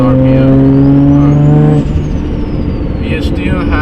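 A modified Nissan R32 GTR engine droning at 2500 RPM in third gear, a loud steady tonal hum from inside the car that eases off partway through, with a voice talking over it.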